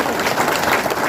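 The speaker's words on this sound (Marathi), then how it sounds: "सर्वांना विनंती आहे त्यांनी सर्वांनी यांच्याकरता मुला मुलींकरता जोरा टाळ्या वाजवायचा." An audience at a devotional kirtan gathering claps loudly in unison, a steady dense burst of many hands that stays at full strength throughout.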